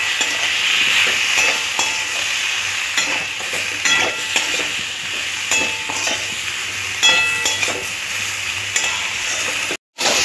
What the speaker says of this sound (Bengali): এবার একটু জল দিয়ে মশলাটাকে সবজির সাথে খুব ভালো করে কষে নেব